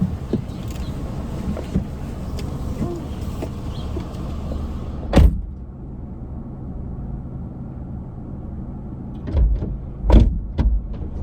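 A car's rear door is opened from inside by someone getting out because the child lock is on: a loud latch clunk, then a quieter interior hush, followed by further clunks and thuds of the door near the end, with no talking.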